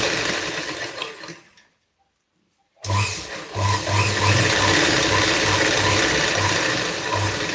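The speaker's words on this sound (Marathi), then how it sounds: "इकड साईडने एक टिप मारून घ्यायची जेणेकरून पट्टी बाहेर येणार नाही" A sewing machine stitches a folded strip along the edge of a blouse, running in a steady mechanical whir after a brief pause, close and loud with no talking over it.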